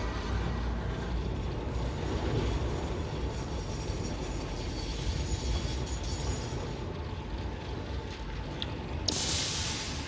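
Trains running along a long track with sidings in the Satisfactory factory-building game, a steady continuous rumble and rolling clatter throughout, with a brighter hiss near the end.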